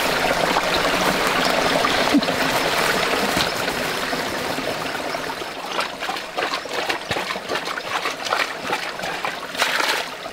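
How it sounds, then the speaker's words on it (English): A small stream with a little waterfall trickles and splashes on rural homestead land in Spain. The rushing water runs steadily and fairly close, and the flow gets choppier and more splattery toward the end. "So here's the little stream."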